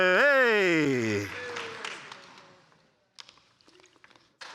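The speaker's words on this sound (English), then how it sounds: "Y'all keep that round of applause going" Audience applause at a spring startup studio showcase, a loud burst right after a shouted cheer that thins out and fades over a few seconds, with scattered claps and crowd noise trailing at the end.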